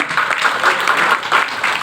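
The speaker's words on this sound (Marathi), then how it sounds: "टाळ्यांचा गजर करूया" An audience at an award ceremony claps and applauds continuously, a dense, loud, even patter with no break across the short stretch.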